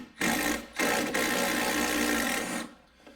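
An impact gun rattling off rusted 10 mm bolts on a GM gas filler neck, several buzzing bursts separated by short pauses, close and fairly loud, with no talk.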